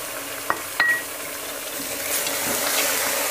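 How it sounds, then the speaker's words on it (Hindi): Beef sizzles in a pan over high heat with onion and garlic-ginger paste, giving a steady frying hiss. A couple of sharp clinks of a stirring utensil come near the start, and the sizzle swells slightly toward the end. "और तेज़ आंच पे इसको 5 मिनट तक हमने भून लेना है अच्छे से"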